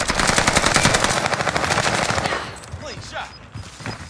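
Rapid automatic gunfire from a shooter video game, loud and sustained for about two seconds, then sparser, quieter shots and faint effects trailing off.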